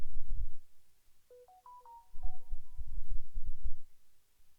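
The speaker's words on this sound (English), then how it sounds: "Sorry, my phone is going crazy now." A phone sounds a brief run of short electronic beeping tones between bursts of low buzzing vibration, close and moderately loud, with no talk over it.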